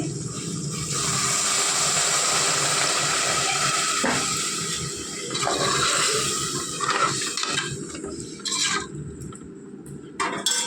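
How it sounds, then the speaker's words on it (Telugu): Water poured into a potato curry cooking in a pressure cooker makes a continuous, fairly loud gushing and splashing sound that fades and breaks up toward the end. "కొద్దిగా వాటర్ యాడ్ చేసుకుందామండి"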